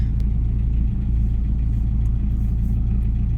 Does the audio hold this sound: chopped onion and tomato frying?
no